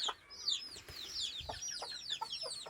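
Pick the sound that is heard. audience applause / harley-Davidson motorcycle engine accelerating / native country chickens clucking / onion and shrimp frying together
native country chickens clucking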